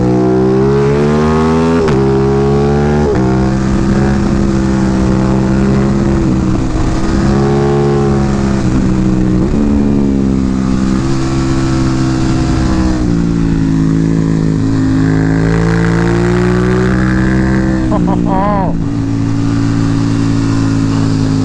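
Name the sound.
Aprilia Tuono 660 motorcycle engine revving in second gear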